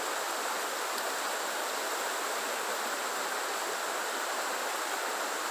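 High, fast creek water rushing steadily over rocks, a loud, continuous broadband roar with no voices.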